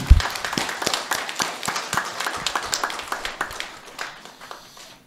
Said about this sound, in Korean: 다 같이 박수하시겠습니다.